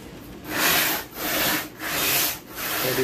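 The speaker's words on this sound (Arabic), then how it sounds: "هذه صنفر حرف الساعة عشان ما يكونش فيه أي مشكلة" Sandpaper rubs along the edges of a wooden picture frame in four loud, even back-and-forth strokes close by, with short pauses between them.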